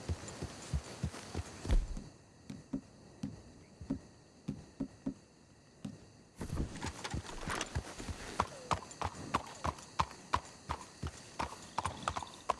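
Horse hooves clip-clop steadily on hard ground in the Red Dead Redemption 2 video game, a close, regular rhythm of sharp strikes that pauses briefly and resumes with a busier pattern of hoofbeats.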